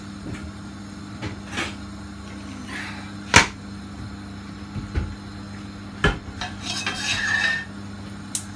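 A spoon stirs a pot of ghormeh sabzi, a Persian lamb and herb stew, on the stove, giving a few sharp metallic clinks and scrapes against the pot with quiet gaps between them.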